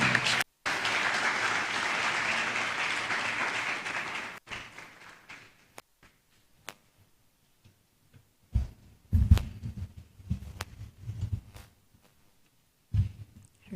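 Applause from the audience at a memorial lecture ceremony rolls for about four seconds, then stops abruptly, followed by near silence broken by a few thumps and soft bumps.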